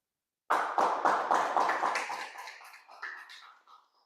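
A short burst of clapping from a small group at a Toastmasters club meeting starts abruptly, holds steady briefly, then thins out into a few scattered claps before fading.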